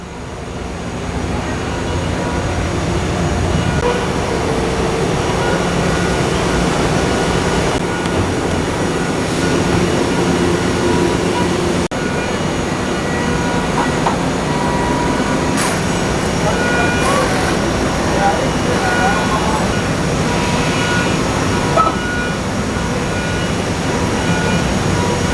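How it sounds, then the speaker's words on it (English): A large Haas CNC machine cuts a 30-inch motorcycle wheel from a blank with a steady, loud, continuous droning hum in a busy machine shop, while a voice talks over it. "check it out here on the Haas machine. We're cutting another 30-inch wheel."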